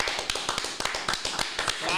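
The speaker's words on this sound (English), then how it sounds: "Round of applause for our guest." Studio audience clapping to welcome a guest on a Philippines podcast, a quick burst of sharp, closely spaced claps under overlapping voices.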